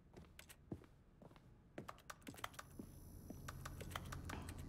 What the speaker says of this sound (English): Love the keyboard sounds.